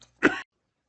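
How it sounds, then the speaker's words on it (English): One short, close cough in an otherwise quiet room during an online class lecture, with a brief rough burst that stops abruptly. "so after that little COVID cough break"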